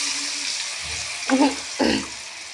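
Food fries in a pan in a home kitchen, a steady sizzle broken by two louder bursts of stirring.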